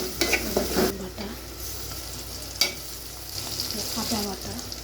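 Ginger paste goes into hot oil left from frying rohu fish in a pan, making a steady sizzle with a few scraping stirs and clinks at the start and one sharp knock partway through.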